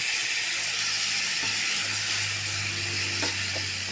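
Jackfruit seeds tipped into hot oil spiced with coriander leaves, giving a steady broad sizzle and hiss that runs throughout, with faint stirring clinks near the pan.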